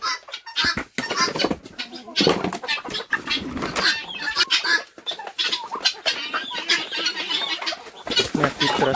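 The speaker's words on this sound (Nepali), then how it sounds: "यहाँ कुखुरा छ ऐ" Chickens at a feeding spot cluck and squawk loudly and continuously nearby, with busy overlapping calls and a voice talking among them.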